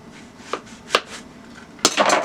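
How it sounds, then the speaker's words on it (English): A knife slices through a garden egg (bitter ball) on a cutting board: a few sharp, close cuts with knocks against the board, ending in a louder cluster of chopping sounds. "you cut this part off, and then you slice it in the middle"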